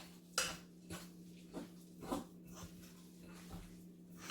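Chocolate peanut butter protein bar ingredients mixed in a bowl, with several soft clinks and scrapes of a utensil at irregular intervals over a low steady hum.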